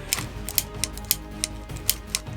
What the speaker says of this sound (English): The remote does, when you move the head, makes a little clicking sound.